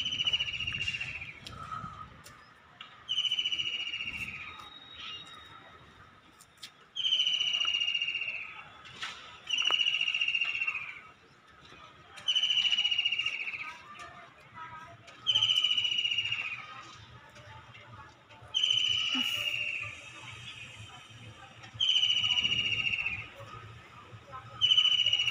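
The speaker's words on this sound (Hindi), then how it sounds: "ओह, चिड़िया बोल रही कहीं पर।" A bird repeats a bright, whistled phrase every few seconds in a regular rhythm, clear and moderately near, over quiet background noise after rain.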